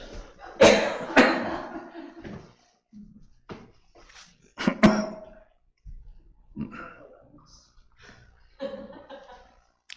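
Several sharp coughs burst out near the start and again midway, mixed with throat sounds and some brief talking, during an afternoon church service.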